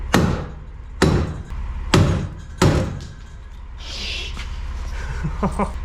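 Four loud metallic hammer strikes on a golf cart axle land about a second apart in cold weather, then fade into faint clinks and rustling.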